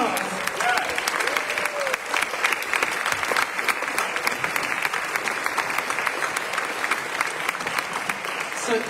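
A lecture audience at UMBC applauds the standing McNair scholars, sustained dense clapping with a few cheers and voices mixed in, steady for the whole stretch.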